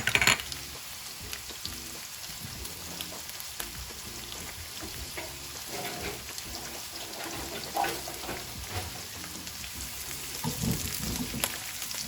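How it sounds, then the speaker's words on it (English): Roughly chopped diced onions frying in a hot pan for a chicken and mushroom kebab curry sauce, a steady close crackling sizzle with light stirring scrapes throughout, no talking. "So very first thing that goes in is the roughly chopped, diced onions."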